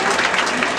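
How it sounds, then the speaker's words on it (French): A steady, dense burst of audience applause at a school singing contest final, sustained and fairly loud throughout the short moment. "S'il vous plaît, essayez de l'applaudir."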